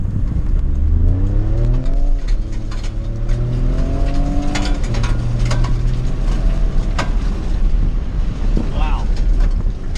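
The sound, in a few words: 2019 Ford Raptor truck driving fast in Baja mode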